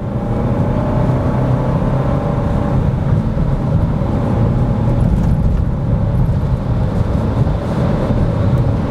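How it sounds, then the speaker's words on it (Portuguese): Inside a Renault Captur accelerating over uneven asphalt, a heavy, constant low rumble of engine and road noise fills the cabin, steady and loud for nearly nine seconds without speech. "Acelerar aqui um pouquinho mais."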